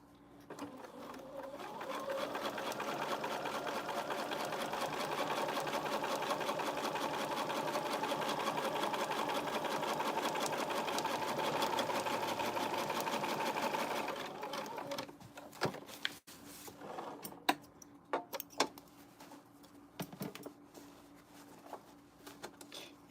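A sewing machine top-stitches a seam on a zipper pencil case, running in one steady, close whirring burst for about fourteen seconds, then stopping and giving way to scattered clicks and handling noises.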